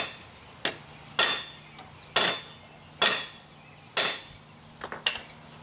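A hammer drives a part past a retainer on a Ford 515 sickle bar mower: five loud, sharp metallic blows spaced about a second apart, each ringing briefly, then a few lighter quick taps.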